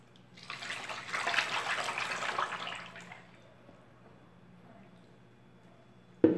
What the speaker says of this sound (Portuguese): Eu vou colocar 4 litros de óleo.